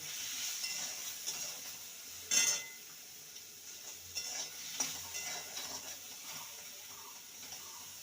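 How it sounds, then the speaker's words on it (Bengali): Bitter gourd seasoned with turmeric and salt fries in oil in a kadai, a quiet sizzle broken by one loud stirring scrape and several softer clinks and stirs. "সেটাকে ভালো করে লাল করে ভেজে নেব"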